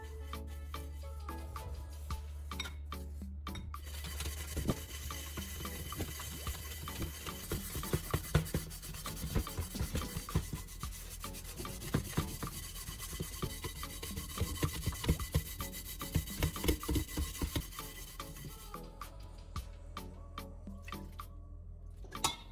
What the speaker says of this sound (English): Now use a scrubbing pad and scrub slowly in circular motions.